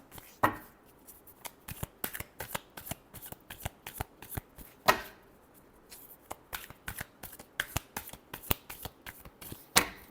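Tarot cards being shuffled by hand, a dense run of quick papery riffles and flicks with a few sharper slaps, close and steady throughout with no talking.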